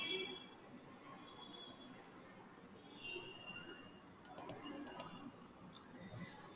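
Computer mouse clicks during a software installation, a few light, sparse clicks over faint room noise, no voice.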